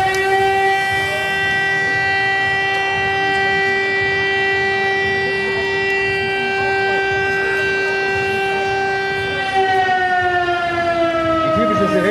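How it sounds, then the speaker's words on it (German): Fire brigade alarm siren at a volunteer fire service drill near a primary school in Naunhof, a loud steady wailing tone held for many seconds, then beginning to fall in pitch near the end, with no talk. "Die typische Sirenenalarmierung ist einmal 15 Sekunden"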